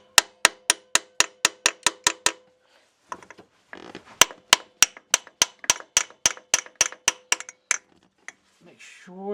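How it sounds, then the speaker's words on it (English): A small hammer taps a clip on a 2004 Mercedes C320 4Matic engine during a water pump install, sharp metallic knocks in quick, even runs of about a dozen strikes, a pause, then another series, with brief talk near the end. "So let's take our little hammer here and tap a little bit."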